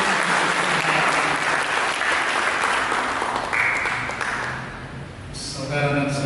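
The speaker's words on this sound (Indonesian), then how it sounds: "Mari kita berikan tepuk tangan yang mulia bagi Yesus." A church congregation gives a sustained round of applause for Jesus during a sermon service. The loud, dense clapping gradually thins and fades, then voices and music rise near the end.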